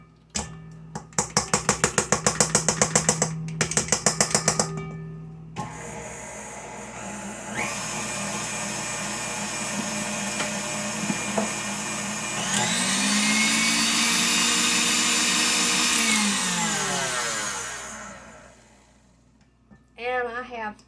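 An electric mixer whirs through icing and Jello mix for a strawberry shortcake cake, starting in choppy bursts, then running steadily and rising in pitch as it works the batter, then cutting off before one last short burst.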